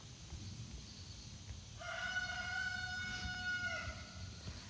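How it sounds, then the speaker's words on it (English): A rooster crows once, clear but somewhat distant, over a low murmur of hens and background noise on a homestead flock of laying hens, roosters and meat chickens. "we have 8 hens for laying eggs, 2 roosters, and then 2 meat chickens"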